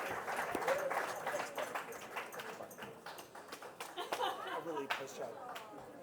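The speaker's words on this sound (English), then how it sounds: "Please put your hands together and give the Sydney applause to our dear friend from Melbourne." Audience applause at a Greek Herald centenary celebration at NSW Parliament in Sydney, a dense spatter of clapping for a guest from Melbourne, sustained for several seconds with voices and cheers mixed in.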